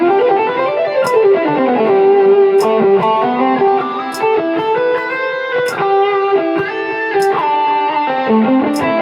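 Electric guitar played through a Line 6 Spider V amp, a sustained melodic line of ringing notes and bends with regular sharp picked attacks, close and alone.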